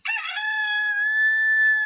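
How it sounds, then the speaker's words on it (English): A rooster crows once, loud and close, in a single sustained call of a little under two seconds with no talk around it. "There's Mr. Rooster"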